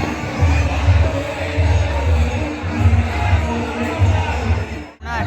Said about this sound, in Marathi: नुसती गर्दी